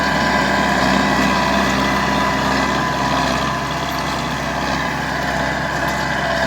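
An MTZ-80 tractor engine labors while ploughing a field, a loud, steady diesel drone with a throbbing low rumble that holds throughout, dipping slightly in the middle, no voices over it.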